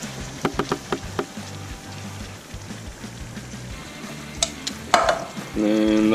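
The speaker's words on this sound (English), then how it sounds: "so I'm going to go ahead and add our beans. We've got the ranch style beans." Ranch style beans tipped into a pan of cooking onions and stirred, with a few sharp knocks and scrapes from the utensil over a low sizzle that swells louder near the end.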